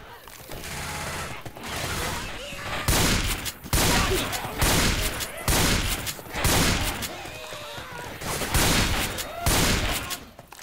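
Dense, continuous gunfire and automatic bursts from the video game Left 4 Dead 2 on the Parish campaign, loud and sustained with brief gaps and mechanical reload clatter, with faint game voices underneath.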